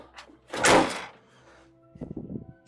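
Side door of a 1963 Chevy panel Suburban, a handyman work van, slams shut with a loud, broad thunk, then latches and rattles in a quieter cluster of knocks about a second later.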